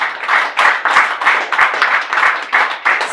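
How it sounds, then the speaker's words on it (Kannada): Audience at a spiritual talk clapping loudly in a rhythmic unison beat, about ten sharp claps in quick steady succession, close and strong, with no talk over them. "ಜೋರಾಗಿ ಒಂದ್ಸಲ ಚಪ್ಪಾಳೆ ಹಾಕಿ."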